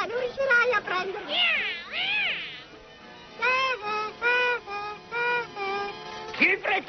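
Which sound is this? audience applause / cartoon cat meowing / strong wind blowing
cartoon cat meowing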